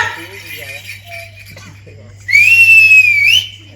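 A person whistles a single rising and sustained shrill note for about a second near the end, loud and close, after a stretch of quiet talk and low hum.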